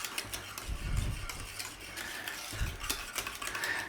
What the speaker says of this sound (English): Just stir it in till it goes smooth.